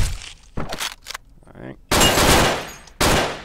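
Gunfire in the top-down video game Hotline Miami comes as loud, dense bursts of rapid shots that cut in abruptly and stop, after someone briefly speaks over quieter game sounds.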